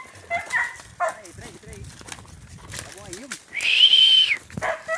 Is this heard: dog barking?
yes